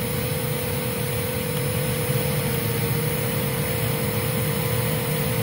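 A Hoover Z400 vacuum cleaner motor runs steadily with its brush roll switched off, giving a constant close whine and hum at unchanging pitch with no talking.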